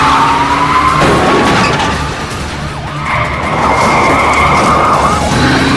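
A car carrying a bomb, driven away from a crowd, skids with loud, sustained tire squeals and engine noise, the screech dipping briefly before surging again, with siren-like tones.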